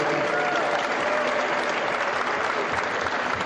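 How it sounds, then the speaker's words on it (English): A comic con crowd applauds cosplayers with dense, even clapping that holds at a strong, constant level throughout. "Give them a round of applause"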